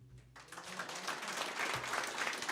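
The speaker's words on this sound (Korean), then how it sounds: "이 반영을 희망하는 뜻에 우리 큰 박수로 다시 한번 희망을 해보시죠" Audience at a Goyang mayoral candidates' policy debate breaks into applause, a dense wash of clapping that rises after a brief quiet start and holds steady.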